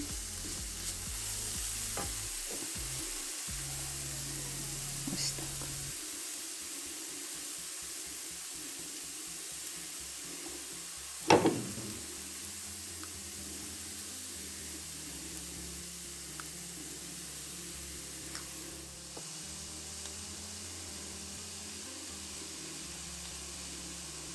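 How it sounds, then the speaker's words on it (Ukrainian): Steady frying sizzle of onion and carrot stewing in a pan, continuous and fairly loud, with occasional clinks of a utensil and one sharp clatter midway. "як тушиться цибулька, морковка"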